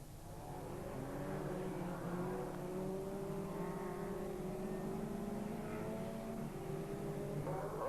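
BriSCA Formula 2 stock cars racing around the oval at Boston in 1992, a steady drone of several engines at a distance, rising and falling as they lap, with no voices.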